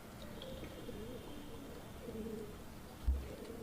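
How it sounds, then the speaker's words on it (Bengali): Soft, low cooing from a Moyna Jhak pigeon just released, a few faint murmuring calls close by over a quiet background, with one brief thump near the end. "আমরা কবুতরটা ছাড়ি, আপনারা দেখেন।"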